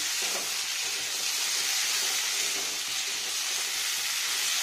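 Potatoes frying in oil over a low flame, a steady, even sizzle with soft hiss and faint bubbling that continues close and alone throughout.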